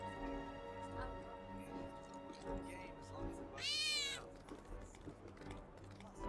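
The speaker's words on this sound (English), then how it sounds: "Yeah, cat." A cat meows once in Final Fantasy 7 Remake, a clear, close, rising-and-falling cry lasting about a second over quiet game ambience and low background hum.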